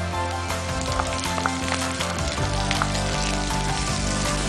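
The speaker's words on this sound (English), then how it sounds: "My oil is hot now. I will add garlic, green chili and ginger. With this I will add onions" Garlic, green chili, ginger and onions hitting hot oil in a pan, a loud, steady crackling sizzle with occasional pops and a low hum underneath, close and continuous.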